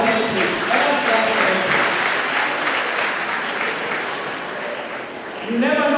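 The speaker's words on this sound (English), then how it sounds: "Let us clap for him." A crowd claps steadily at a ceremony where names are called out, a continuous dense patter of hands that fades slightly before a voice cuts in near the end.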